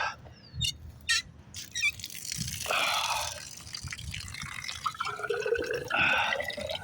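Water drips and trickles from an outdoor spigot in a quiet series of soft, irregular splashes and brief gushes, fairly close and faint, with no talking.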